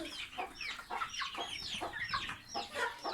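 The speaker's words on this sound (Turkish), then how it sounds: "Bunlar da civcivler de burada yemek yiyorlar." Chicks and hens feeding together on a farm, with a busy stream of close, overlapping high peeps and soft clucks chirping continuously without pause.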